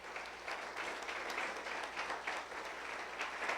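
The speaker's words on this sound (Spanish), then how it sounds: "Dele un fuerte aplauso a Dios en esta mañana." A church congregation applauding during a service, a steady even wash of clapping from many people, heard at a moderate distance.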